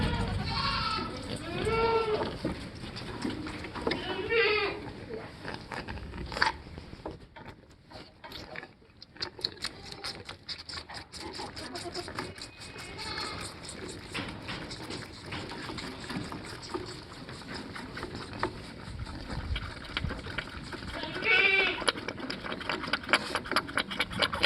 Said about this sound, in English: if you can hear it, he's now sucking air. He can't get anything.